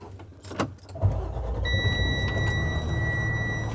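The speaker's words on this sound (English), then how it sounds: "Love the sound of that engine" A Dynamax Force 34KDHD Super C motorhome's engine turns over and settles into a steady low idle, close and continuous, with a faint high whine above the rumble.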